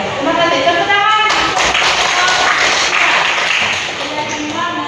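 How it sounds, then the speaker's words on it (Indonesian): A school class claps together at close range, a burst of sharp hand claps in a classroom, with voices talking before and after it. "Tepuk tangan."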